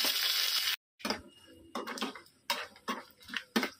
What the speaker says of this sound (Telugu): ఎండుమిర్చి కూడా వేసుకొని వేయించుకోవాలి.